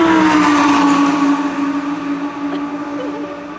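A Formula 1 car on the Circuit de Barcelona-Catalunya, its high engine whine sweeping past and fading over a few seconds, heard from a distance with no talk.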